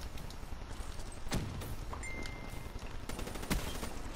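Gunfire in a Call of Duty Black Ops 3 multiplayer match: two sharp, close shots about two seconds apart over steady low background noise, with a brief high whine and no talking.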